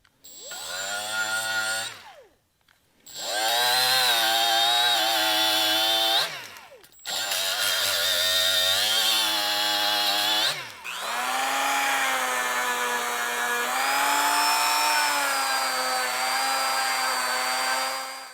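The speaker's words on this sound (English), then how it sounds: "I'm gonna be using a die grinder and a Dremel to try to get in these little places." A die grinder and a Dremel grind on a vintage air fork from a 1982 KDX 450, whining loud and close in long sustained bursts with shifting pitch and brief pauses between passes.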